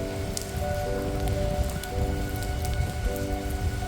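Steady rain falls outdoors on a quiet Sunday morning, a dense continuous patter with scattered sharper drops close by, with no voices.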